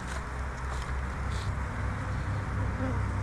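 Honeybees flying back to a hive outdoors, a continuous low buzzing drone close by with a steady hum underneath.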